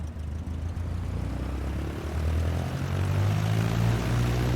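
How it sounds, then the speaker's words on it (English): A propeller aircraft engine runs at full power for takeoff in Microsoft Flight Simulator, giving a loud, steady drone whose pitch and rumble climb gradually as the aircraft gathers speed, with no voices over it. "Apply full power and I'll walk you through the takeoff as we go."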